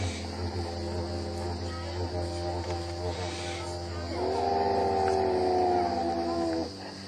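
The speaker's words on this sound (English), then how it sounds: "So all you got to do is blurt. Move your lips around," A didgeridoo at Healesville Sanctuary drones low and steady while the player shifts his lips, so a brighter, wavering overtone rises partway through and then falls away near the end.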